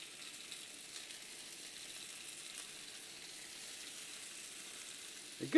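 Shrimp and sausage skewers sizzle on a very hot griddle, a steady soft frying hiss with faint crackles throughout, ending in a brief clattering scrape near the end.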